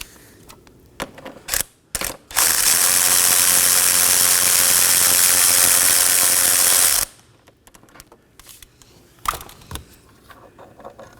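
Ratchet working on a single 10mm bolt at the transmission oil cooler bracket of a 2018-2024 Chevrolet Equinox 1.5L, heard as a loud, steady buzzing run of clicks lasting several seconds, framed by a few sharp taps and clunks before and after.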